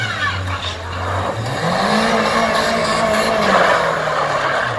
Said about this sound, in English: reverse donut with the rev limiter